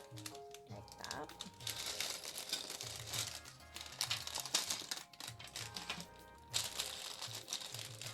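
Plastic bags from a Lego set being torn open and crumpled by hand, a run of close crinkling and ripping bursts with bright rustles, while a person talks quietly in between.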